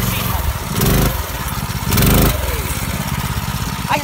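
A custom motorbike's engine runs loud and close during a ride, holding a steady rough drone with two brief surges of revving.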